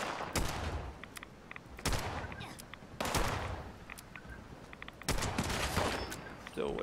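Repeated gunfire bursts in Fallout 76, several sharp volleys a second or so apart with machine-gun-like rattles between them, loud and close, with faint voices in the background.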